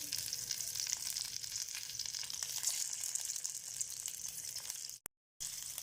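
Capsicum frying in hot oil while being stirred by hand, a steady close sizzling crackle with soft stirring scrapes, broken by a brief silent gap near the end.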